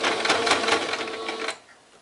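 A sewing machine runs steadily while stitching a heart-shaped fabric pouch, close and fairly loud for about a second and a half, then winds down to quiet.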